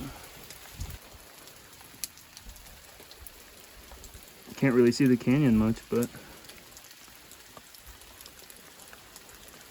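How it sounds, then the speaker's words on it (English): Steady rain patters down throughout on the Arizona Trail, a constant hiss of drops on the ground, with someone briefly speaking midway. "Been getting rained on the whole way down."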